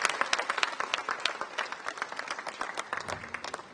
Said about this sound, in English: Big round of applause to Ekistan.